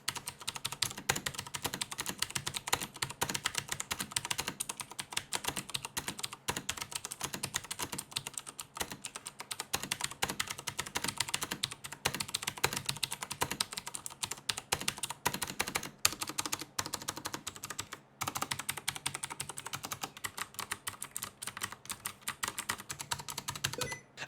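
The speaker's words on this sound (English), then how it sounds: "here's just a quick sound test of the MX blue switches" Rapid continuous typing on a Cougar Attack X3 RGB mechanical keyboard with MX Blue switches, a dense stream of crisp clicky keystrokes at close range with only a brief pause, no talking.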